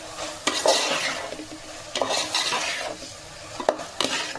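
Salt being mixed into mutton keema curry in a pan, with three distinct clusters of spoon scraping and clinking over a soft sizzle, close and moderately loud.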